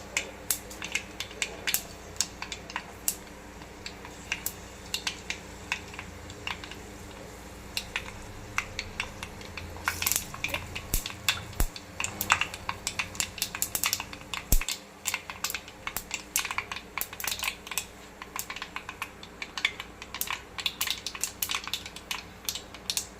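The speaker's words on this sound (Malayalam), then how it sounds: "കടുക് പൊട്ടി ഒരുപാട് നല്ല മൂത്ത് നല്ല ചുവപ്പായിട്ടുണ്ട്" Mustard seeds spluttering in hot oil for a fish curry, rapid irregular crackles and pops scattered densely over a low sizzle, close and continuous without talk.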